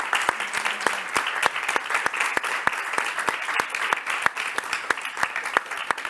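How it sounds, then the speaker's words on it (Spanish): An audience claps at the close of a Málaga Talent award event, dense steady applause sustained throughout, fairly close and even in level. "otro aplauso para terminar."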